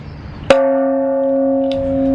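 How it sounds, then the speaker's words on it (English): A clapperless peace bell is slammed with a wooden log, giving one loud strike followed by a long, steady ringing hum with layered tones and a faint second knock near the end. "You take this log and you just slam it against the bell."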